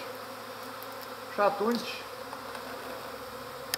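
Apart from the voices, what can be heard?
honeybee swarm buzzing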